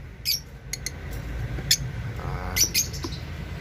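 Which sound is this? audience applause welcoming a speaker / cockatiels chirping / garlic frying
cockatiels chirping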